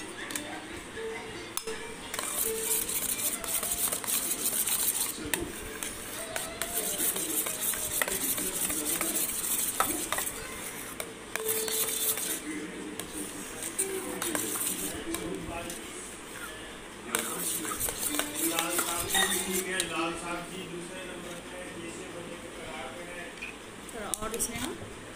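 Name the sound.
mixing food colour into pineapple cake mixture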